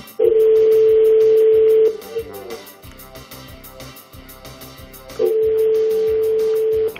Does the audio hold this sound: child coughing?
no